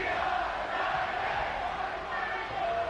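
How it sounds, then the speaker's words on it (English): Simulated stadium crowd noise from the football video game Madden 26, a Rams versus Titans game with Tennessee fans: a steady, loud, dense roar of cheering that holds without a break for three seconds. "I don't know if their crowd noise is ever this loud."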